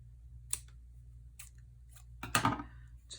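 Scissors snip paper for a stamped craft tag, several short crisp cuts spaced apart, closer and denser near the end, over a low quiet hum.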